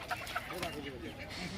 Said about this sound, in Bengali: এখানে হাঁস, মুরগি, পাখি সমস্ত কিছুই পাওয়া যায়।